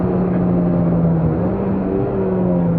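A Peugeot 206 S16 engine revs hard under throttle on a circuit, a loud, close, steady drone with a strong sustained hum that barely wavers, with no talking over it.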